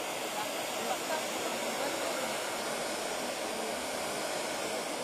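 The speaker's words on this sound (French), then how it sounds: "je fixe avec l'embosseur électrique" An electric heat embossing tool blows over clear embossing powder on a handmade Christmas card, giving a steady, loud, close whooshing hiss that runs unbroken the whole time like a hair dryer.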